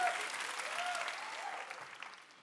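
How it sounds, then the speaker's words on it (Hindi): A studio audience at a comedy talk show claps loudly, a dense sustained wash of applause that slowly fades, with a voice faintly underneath. "एक बार जिमी पाजी का जोरदार तालियों से स्वागत होना चाहिए"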